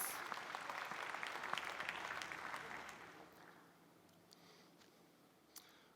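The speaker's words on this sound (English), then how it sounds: "Let's hear a round of applause for all of our participants," Audience applause for event participants, a burst of clapping that fades out after a few seconds, leaving a quiet room with a few scattered claps.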